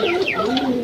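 Fantail pigeons at a pigeon farm give a short, close, soft rolling coo that is clear and loud against quiet surroundings.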